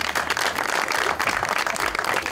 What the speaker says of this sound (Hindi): तो तालियां इनके लिए